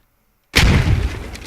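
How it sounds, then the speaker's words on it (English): A grenade detonates in a first-person shooter game match: silence, then a sudden loud blast with a booming low rumble that decays over a second. "Switches out to the nade. The nade goes in."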